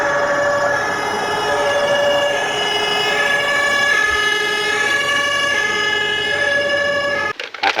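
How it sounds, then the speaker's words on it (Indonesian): A toy fire truck (damkar) sounds its electronic siren in a steady, loud, continuous wail with bright tonal harmonics, alone and without talk, cutting off abruptly near the end. "di sini kakak dapat mainan yaitu sebuah mobil damkar"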